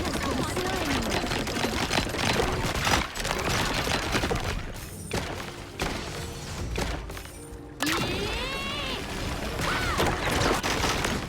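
A Spirit Stone cannon fires as a machine-gun turret in the Honor of Kings mobile game, producing rapid bursts of gunfire and impacts mixed with other game effects and voices.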